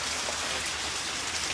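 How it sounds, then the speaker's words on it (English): Steady May rain falls on garden plants in rural Jamaica, a dense, even hiss of drops close by with no voices. "Farmers rain."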